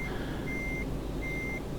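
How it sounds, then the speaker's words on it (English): Reversing beeps from a truck in Euro Truck Simulator 2, two long steady electronic tones sounding at a regular interval over a constant low engine rumble. "God, that beeping's annoying."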